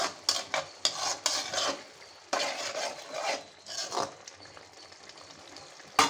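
Brinjal and drumstick vegetables cook for sambar in a pan, with a series of close, sharp stirring scrapes and clinks against the metal over a soft low sizzle, no voices.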